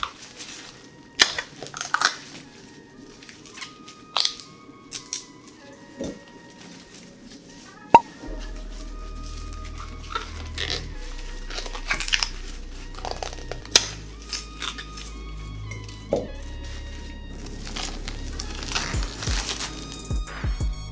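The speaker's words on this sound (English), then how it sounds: "now it looks like we're ready to peel the corn" Corn cobs being husked by hand, with crinkly tearing and rustling of dry leaves in irregular bursts, close up, and a low steady hum entering partway through.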